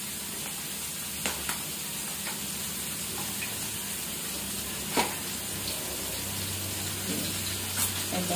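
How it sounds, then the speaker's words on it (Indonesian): Tempeh fries in a pan with a steady, dense sizzle and a few faint pops and clicks, with no talking. "di sini sambil mau goreng tempe"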